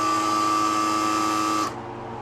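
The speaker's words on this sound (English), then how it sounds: "that vacuum pump's a little bit loud" A vacuum pump running while ham is vacuum-sealed for long-term storage gives a loud, steady machine whine with a sharp tone, then cuts off abruptly near the end, leaving a quieter background hum.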